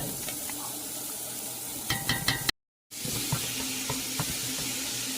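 Ground chuck sizzles and fries in a pan with a steady broadband crackle, a few sharper stirring clicks, and a brief dropout to silence partway through.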